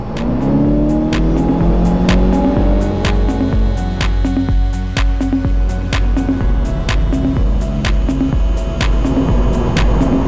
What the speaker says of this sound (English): I'm going into Dublin's Port Tunnel. I'm going to put it into sport for this. And now, let's punch it.